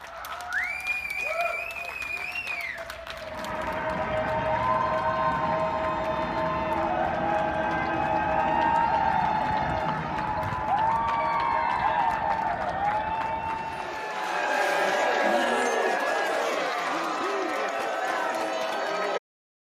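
Crowd cheering and applauding for frontline workers during the 2020 NFL Draft first round broadcast, a long sustained wash of clapping and cheers with whistles, briefly swelling again near the end.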